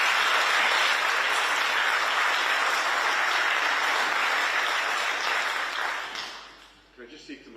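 Sustained applause from an audience after a political speech on Scottish independence, a loud, even wash of clapping that holds for several seconds and then fades out at the end.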